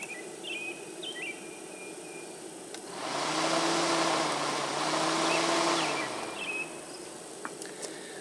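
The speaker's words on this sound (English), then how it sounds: "So let's see if we get the fan running." Radiator cooling fan on a 1997 Toyota Corolla kicking on with a steady whooshing whir for about three seconds, then cutting off, over faint background hum and distant bird chirps.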